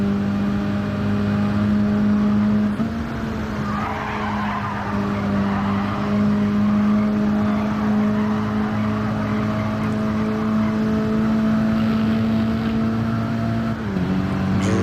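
A race car engine in a racing video game holds a loud, steady high-revving drone, pitch shifting briefly near the start and again near the end as gears change, with no voices over it.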